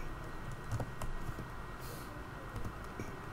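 Keys on an unfamiliar computer keyboard tapped in a quiet, irregular stream of light clicks, heard close and fairly soft with no talking.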